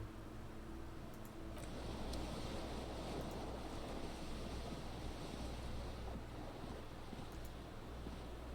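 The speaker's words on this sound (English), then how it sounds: "wind rushes in. Your toes curl up from the cold." Cold wind rushing in within the video game Disco Elysium, a steady broad roaring whoosh of moderate loudness with a low rumble, continuous and without speech.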